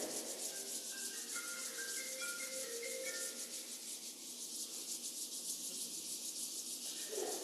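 Palms rub together during a qigong exercise, a soft, continuous dry swishing friction close by, fairly faint over faint background tones, with no talking.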